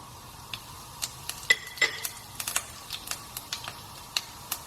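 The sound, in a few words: stirring chili, cinnamon, bay leaf and cumin in hot oil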